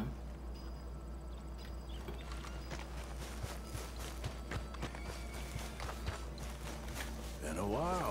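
Horse hooves clop across the ground in the video game Red Dead Redemption 2, a quick run of soft irregular beats under a low background hum and game ambience.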